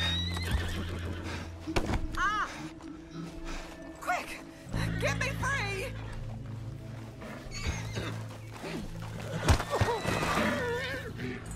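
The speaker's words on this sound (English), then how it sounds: "Get me off this horse!" Horse neighing and whinnying loudly several times, with hoof clip-clops and a person shouting and gasping over the animal's cries.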